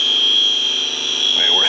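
An A/C refrigerant leak detector sounds its alarm held close to a leak on a vehicle, a loud, steady high-pitched electronic tone with a voice coming in at the very end.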